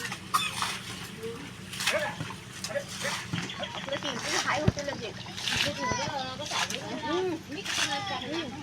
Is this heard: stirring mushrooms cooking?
no